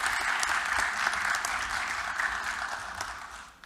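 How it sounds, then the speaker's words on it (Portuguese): Steady crowd applause at a formal bar association event as a colleague is welcomed to the stage, dense and continuous before tapering at the end. "Uma salva de palmas para nosso colega."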